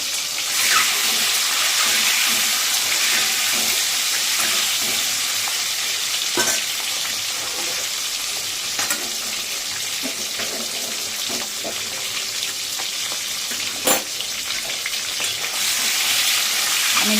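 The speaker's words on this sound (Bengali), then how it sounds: "একটু লাল লাল করে ভাজবো।" Turmeric, salt and sweet spice paste frying in hot oil for a special egg dish, with a steady, loud sizzle throughout and occasional stirring scrapes and small clinks, some running water briefly audible.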